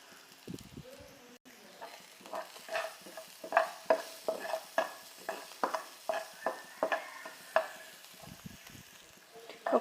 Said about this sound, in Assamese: অকণমান সময় ভাজি থাকিম এইখিনি মই।